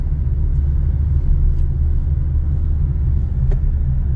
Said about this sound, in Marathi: आपली गाडी तिथून चाललेली आहे